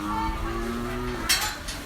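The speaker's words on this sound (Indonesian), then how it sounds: "Sekarang saya tepat berada di depan kandang sapinya." Cattle in a cow pen on a farm give a drawn-out moo close by, followed by a brief metallic clatter, with no voices.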